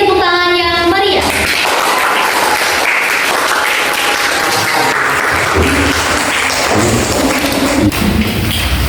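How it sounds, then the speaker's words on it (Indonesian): School student council election demonstration at SMKN 2: a brief tonal chime gives way to a sustained burst of audience clapping, dense and loud, with a few thumps, fading slightly toward the end. "Beri tepuk tangan yang meriah."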